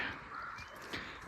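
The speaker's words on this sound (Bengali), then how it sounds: "হালকা পাখির ডাক শোনা যাচ্ছে ওই পাহাড়টাতে।" Faint bird calls drift from a hillside along the Dhotrey to Tonglu trek in West Bengal, thin and distant over a soft, steady outdoor ambience.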